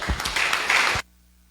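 A church congregation at a Bible school gathering claps in praise, a short burst of dense applause that lasts about a second and then cuts off abruptly to silence.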